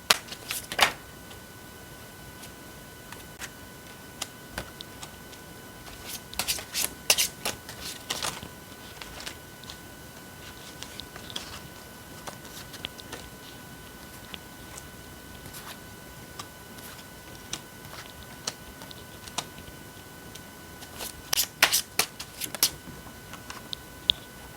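Tarot cards are shuffled and handled at close range. Soft riffles and light taps come intermittently, with denser flurries partway through and near the end, over a quiet background.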